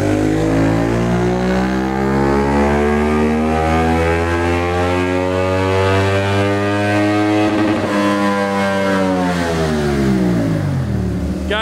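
A CFMOTO 450SS motorcycle with a Yoshimura slip-on exhaust and flashed ECU revs on a dyno, engine note climbing steadily through the gears, loud and close, with a brief dip at a shift before rising again.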